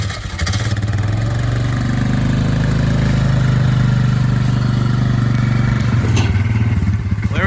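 Polaris Scrambler four-stroke quad engine firing up on choke, settling into a loud, steady, close idle with a lumpy mechanical clatter and no talk.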